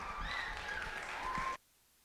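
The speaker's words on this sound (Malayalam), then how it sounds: "നല്ലൊരു കൈയടിയോടെ നമുക്ക് അവരെ സ്റ്റേജിലേക്ക് സ്വാഗതം ചെയ്യാം" Audience applause welcoming a group of dancers onto the stage at an Onam celebration, a steady dense clapping that holds for about a second and a half and then cuts off abruptly into near silence.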